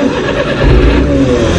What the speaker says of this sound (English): Turn the engine on.